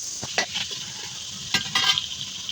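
Potatoes frying in oil on a village clay stove are stirred, giving a steady soft sizzle with a few sharper scraping strokes of the spoon against the pan, close and fairly quiet.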